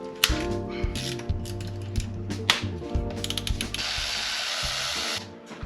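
A hand ratchet clicks in quick bursts while backing out 12 mm bolts from the starter of a Honda Civic or Integra, its pawl chattering close up in uneven runs with brief pauses between strokes.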